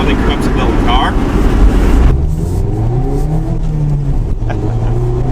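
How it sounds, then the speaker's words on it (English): 2017 Mazda MX-5 RF GT roadster accelerates hard with wheel spin, a loud, close engine rising in pitch, then settling into a steadier drone after a gear change. "A little bit of wheel spin."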